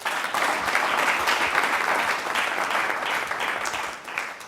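Audience applause for a Christian music group, winners of the grand prize at the 2022 Christian Music Festival; dense, sustained clapping from a crowd, steady and loud throughout before easing slightly at the end.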